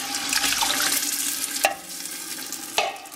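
Six cans of undrained diced tomatoes with their liquid are poured into a pot for stuffed pepper soup, a wet, sloshing, gurgling stream broken by a few sharp clinks of metal cans.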